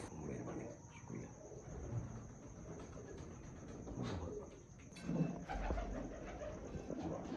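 Breeder pigeons cooing softly in a loft, low murmuring coos scattered through a faint, noisy background with a constant high-pitched whine.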